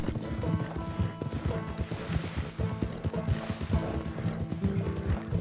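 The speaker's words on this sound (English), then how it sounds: "let's give Horsey a break. It's running for a while." Horse hooves run in Red Dead Redemption 2, a steady clip-clop gallop up close, with brief whinny-like calls and game sounds mixed in, continuous throughout.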